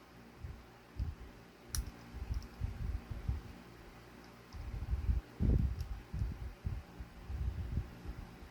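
Plastic pegs of a Titanic model kit clicking into their holes, a run of short, soft, close clicks and taps spread irregularly, with a brief cluster of louder snaps midway.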